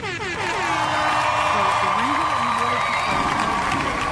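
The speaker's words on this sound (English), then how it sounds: "the crowd was just cheering all up in my ear" A loud stadium-style crowd cheering and whooping inside the game Star Citizen, a continuous roar of many voices with rising shouts that fills the whole stretch without a break.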